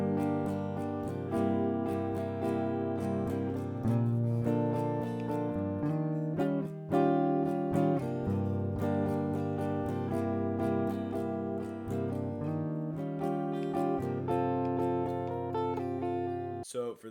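An acoustic guitar plays the second phrase in steady, clear strums that move through several chord changes, close and alone with no talking.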